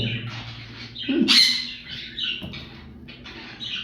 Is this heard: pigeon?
yes